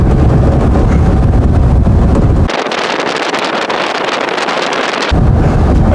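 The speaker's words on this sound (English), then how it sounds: "It's a little windy here." Heavy wind blasts the microphone on a Volkswagen Thing in loud, rumbling buffets, easing briefly to a thinner hiss midway before the deep gusting returns.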